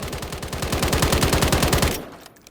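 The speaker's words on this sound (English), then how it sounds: "The SIG Assaulter K, recoil control here, full auto." Rapid full-auto burst from a SIG Assaulter K rifle in Call of Duty Modern Warfare III: a loud, fast, evenly spaced string of sharp gunshots lasting about two seconds, then it cuts off abruptly.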